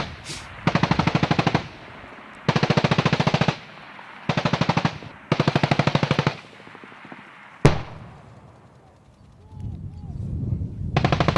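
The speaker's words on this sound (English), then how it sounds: "The Marines are shooting about 250 to 300 meters at those targets down there." US Marines in a live-fire infantry exercise shooting at targets about 250 to 300 meters downrange: four loud, rapid bursts of automatic gunfire separated by short pauses, then a single sharp bang and quieter rumbling outdoor noise.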